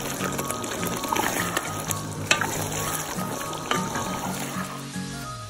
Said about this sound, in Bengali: এটাকে নেড়ে নেড়ে এভাবেই আপনার ভাজা ভাজা করতে হবে